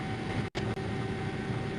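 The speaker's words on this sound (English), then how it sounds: "And the sound of an airplane." A steady, broad roar of an airplane runs throughout, loud and continuous with a brief gap near the start.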